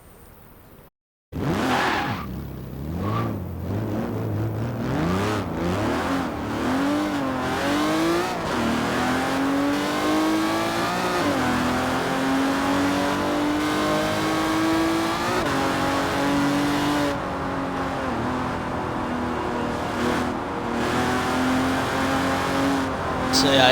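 The James Bond Edition Aston Martin DB5 driving in Forza Horizon 4: an engine revs up through rising pitch sweeps over repeated gear changes, then holds a loud sustained drone with some tire noise, close and continuous after a brief quiet start.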